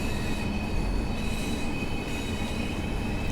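A TfW Class 142 train in Train Sim World 6, running as a steady rumbling rail roar with wheel squeal and whining tones, loud and continuous with no voices over it.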